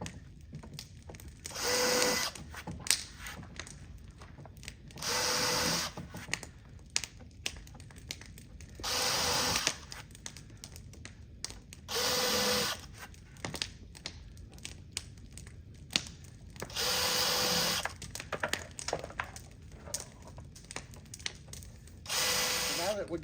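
Power drill countersinking screw holes in a wooden straight-edge jig, heard as about six separate bursts of a few seconds each, fairly close, with quieter handling and rubbing noises in the gaps.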